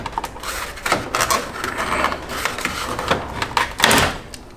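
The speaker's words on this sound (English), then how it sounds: "The brake ducts are just press fit, so they should come out with a bit of careful pulling." Press-fit plastic brake ducts are worked free from the front end of a BMW E30, giving a series of close scraping, creaking and clunking knocks of irregular rhythm, with a louder burst near the end.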